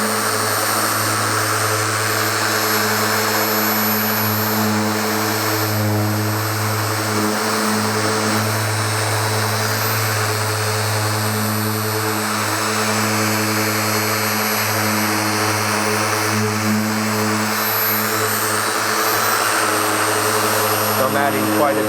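A polishing machine buffs car paint with Adams sprayable compound, giving off a loud, constant droning whine with a steady tonal hum and slight shifts as pressure changes, while a person talks over it.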